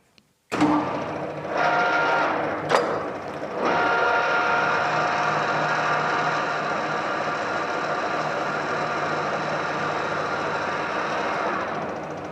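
A metal lathe motor starts up and runs steadily with a dense, continuous whirring hum, loud and close, with a couple of brief knocks near the start.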